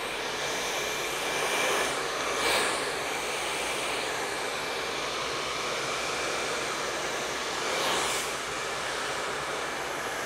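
A blow dryer runs nonstop while a flat brush styles a man's hair into a punk look, giving a steady, loud airy roar that swells slightly twice as the dryer moves.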